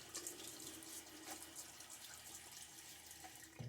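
Water runs from a bathroom tap into a sink to wet a face before a wet shave, a soft, steady splashing stream, quiet and close with no talking.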